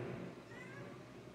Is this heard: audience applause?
no